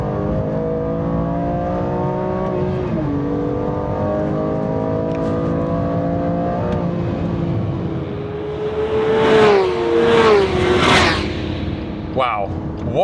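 A BMW M2 engine on a circuit drones steadily in harmonic bands, then revs hard several times toward the end, hitting the limiter in third gear, with someone talking over it throughout.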